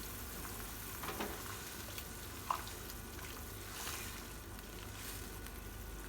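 Chicken stir-fry cooks in a pan with liquid simmering down, a soft, continuous bubbling sizzle with faint stirring clinks, fairly quiet and steady without talk.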